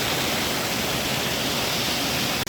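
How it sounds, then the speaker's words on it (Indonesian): A two-tier waterfall about twenty meters high, swollen in the rainy season, roaring as a dense, constant broadband rush close by, with no voices. "Air terjun ini terdiri dari 2 tingkat."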